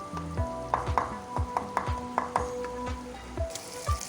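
Masala sizzles in a pan for an eggplant dish while a spoon scrapes and stirs it in a steady rhythm of repeated strokes. The sound is close, with no talk.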